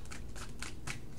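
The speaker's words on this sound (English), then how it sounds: "I want you guys to see me shuffling." Tarot cards are shuffled in quick riffling bursts, four brief rustling swishes in steady rhythm, close and clear with no talk.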